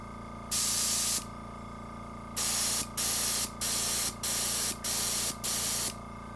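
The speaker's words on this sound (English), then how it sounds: "I don't know how to even adjust this airbrush. Or this air pump. Or this compressor." An airbrush sprays miniature paint with air from a compressor, a loud close hiss in one long burst and then five short, evenly spaced bursts, over the steady low hum of the running compressor.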